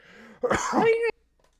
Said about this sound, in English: sorry, coughing time